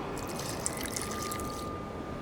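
Water trickles and pours steadily into a flask in the video game The Witcher 2, a soft continuous liquid fill lasting a couple of seconds before tapering off.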